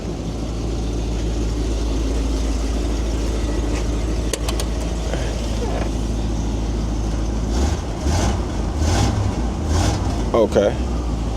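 An Infiniti QX30 engine idles steadily after warming up, a low continuous rumble throughout with a few brief revs or clatters near the end; faint voices and shop noise sit beneath it, cold outdoor garage setting.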